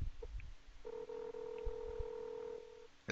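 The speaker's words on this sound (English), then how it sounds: "It's calling my phone." A softphone rings through after a dialer login, giving a faint steady electronic tone that holds for about two seconds, with a few short beeps around it and no talking.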